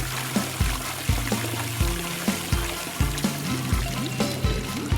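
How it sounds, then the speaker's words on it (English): Water pours steadily in a small LEGO-craft setting, a continuous trickling stream with a regular series of glugging splashes, close and moderately loud, with no talking. "Water."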